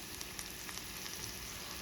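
Ground meat sizzles and fries in a pan with onion and garlic, a dense, faint crackling hiss with small popping spatters throughout, no voices.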